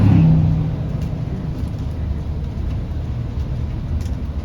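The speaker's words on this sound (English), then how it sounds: "Coasting again, going to turn right. Okay, we're braking now." A car on a test drive coasts and brakes ahead of a right turn, giving a steady low engine and road rumble that is loudest at the start and then settles into an even drone, with no talk.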